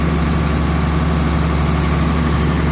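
A New Holland T6050 tractor engine idles steadily nearby, a loud, even low rumble with constant mechanical vibration and no voices over it.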